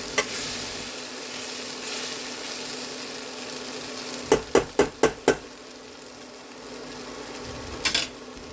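Poha cooks in a pan with a soft continuous sizzle, broken by a quick run of five sharp taps of a spoon against the pan and a couple more knocks near the end.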